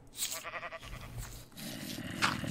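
A video game sheep bleats in a wavering, repeated call, fairly close, over a low rumbling background.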